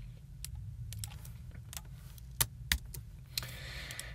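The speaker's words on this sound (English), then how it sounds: "type a keystroke." Keystrokes on a computer keyboard, a handful of sharp isolated clicks spaced irregularly over a low steady hum, with a brief rustle near the end.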